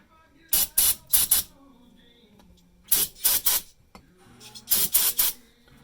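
Brake cleaner goes onto parts from a Subaru TR690 CVT solenoid job in three close groups of sharp aerosol spray bursts, two or three quick hisses each, separated by quiet pauses.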